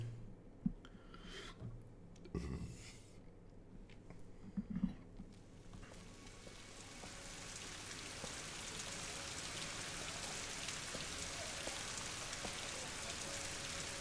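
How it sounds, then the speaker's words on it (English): Rain falling in the Rise of the Tomb Raider video game, a steady broadband hiss of rainfall building in after a few scattered thumps and rubbing noises, then continuing evenly and moderately loud. "we're in England, so of course it's raining."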